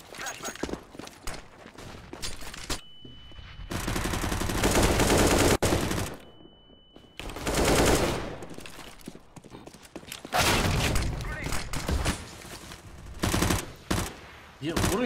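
Gunfire in a competitive online shooter comes in several sharp bursts of rapid shots, separated by brief quieter gaps, with busy game noise around them.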